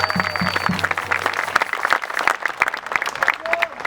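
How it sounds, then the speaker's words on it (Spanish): Applause from an audience at a gathering honoring a teacher, a broadband patter of clapping mixed with crowd noise and scattered shouts, running steadily throughout with voices heard over it. "un aplauso para la compañera"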